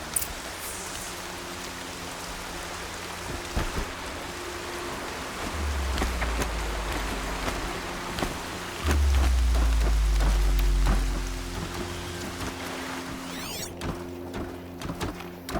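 Steady rainfall in the video game Horizon Zero Dawn, a constant hiss of drops on surfaces with low rumbling game sounds and faint tones layered beneath.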